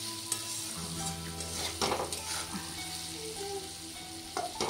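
Potatoes and whole green chillies fry in a pan with a soft, steady sizzle close by, punctuated by a few scraping stirs and a light clatter of utensils against the pan.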